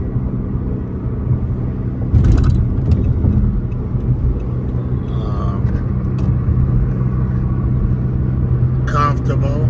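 Red Dodge Charger on a ride, a steady low engine and road rumble heard from inside the cabin, with brief rattles and someone talking over it.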